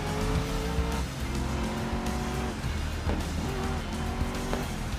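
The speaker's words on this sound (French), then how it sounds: "Allez, c'est parti pour un boost." Electric race car in the racing game GRID Legends accelerating hard on boost, a steady loud motor whine with shifting tones and brief tire squeal, continuous for the whole stretch with no talk.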